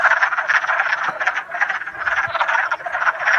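Dense chorus of wood frogs croaking in mating season, many overlapping clucking calls forming a steady, close, continuous racket with no voices.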